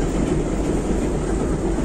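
A Moscow–Novy Urengoy express train at a station platform, producing a steady loud rumble with faint rhythmic wheel clatter, close and continuous with no voices.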